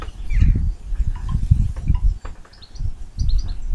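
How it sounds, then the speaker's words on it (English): Small birds chirp faintly and intermittently outdoors, with short high tweets over low rumbling wind and rustling noise. "I'm just outside, so if you hear birds chirping and stuff"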